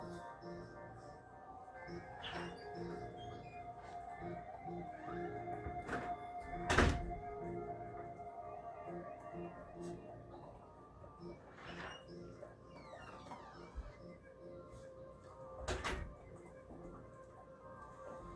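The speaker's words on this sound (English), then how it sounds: "you'll hear the door as I go out" A door thuds and clunks as someone goes out, with a sharp bang midway and another knock later, heard faintly over quiet background music.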